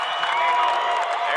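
At a 1996 Class D high school basketball semifinal, the gym crowd stands and cheers, and a broad wash of applause and shouting runs steadily under it.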